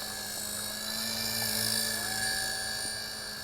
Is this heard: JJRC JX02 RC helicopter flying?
yes